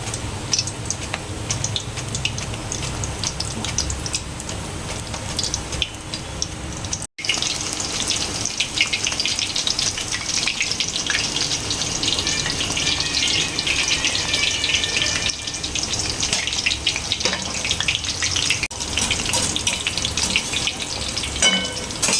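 Thin banana slices deep frying in hot oil for spicy banana chips, a loud, steady crackling sizzle throughout with a brief drop near the seventh second and occasional stirring, no voices.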